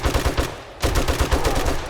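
Rapid bursts of automatic gunfire in a video game, loud and close, with a short pause before the shooting resumes in dense rattling volleys; no talking.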